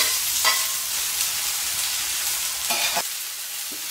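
Cumin seeds, star anise and a pulao leaf fry in oil and ghee with a loud, even, close sizzle, broken by a few scraping stirs, and no voices.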